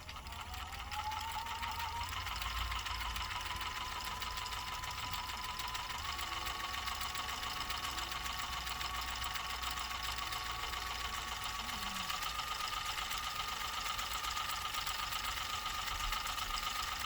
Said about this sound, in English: this motor has just been serviced, so the speed on it's going to vary just a little bit as it cleans all the excess out